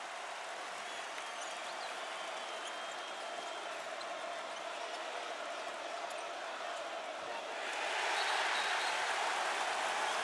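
Arena crowd noise at Cassell Coliseum during an ACC men's basketball game, Duke against Virginia Tech, a steady far roar that swells louder toward the end, with faint commentary underneath.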